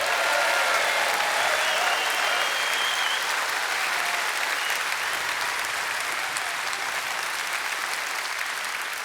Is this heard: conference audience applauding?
yes